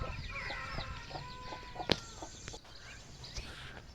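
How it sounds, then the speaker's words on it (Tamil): Soft, repeated clucking from a nearby rooster, with a sharp click partway through and faint outdoor background. "சேவல் இது"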